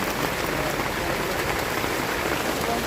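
Heavy rain falling during camping under a makeshift tent, a dense continuous hiss of drops pattering on surfaces, steady and loud throughout with no clear voices.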